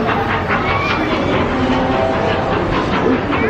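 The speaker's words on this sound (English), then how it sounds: "Oh, here comes the train." A train rumbles past nearby with rhythmic clattering and a steady roar, loud and continuous for a few seconds.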